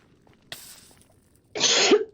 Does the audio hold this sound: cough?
yes